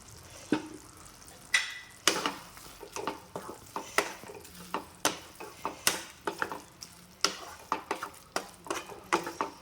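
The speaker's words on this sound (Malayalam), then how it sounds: "മസാല നന്നായിട്ട് തിളച്ചിട്ടുണ്ട് ഇതിലേക്ക് നമുക്ക് വേവിച്ച് വെച്ച സോയ ഇട്ട് കൊടുക്കാം" Cooked soya chunks are stirred into a simmering masala for a dry soya roast, with a quiet bubbling base and a rapid run of rhythmic spoon scrapes and clacks against the pan.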